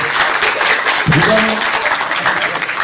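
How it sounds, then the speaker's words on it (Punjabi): A crowd claps steadily throughout, a dense wash of applause with a voice briefly audible over it. "ਸਾਰੇ ਇੱਕ ਵਾਰੀ ਜ਼ੋਰਦਾਰ ਤਾੜੀਆਂ ਸਾਰੀ ਟੀਮ ਲਈ ਦੇ"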